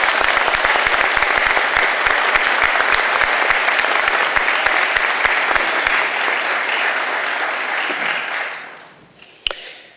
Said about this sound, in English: How about a round of applause for Class 241?